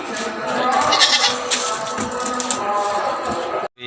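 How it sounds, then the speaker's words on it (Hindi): A hornless goat offered for sale at a Karachi livestock market bleats loudly and repeatedly at close range amid busy background noise. "ये मेरे पास बकरी है"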